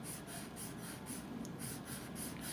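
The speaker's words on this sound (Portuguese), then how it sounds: "A gente consegue desenhar com a borracha." An eraser rubbing back and forth on paper shaded with graphite, making faint, quick, evenly spaced scratchy strokes, about a dozen in a row, close and quiet with no voices.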